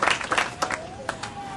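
An audience gives a brief, scattered round of clapping, a few sharp hand claps rising and falling over a second or two.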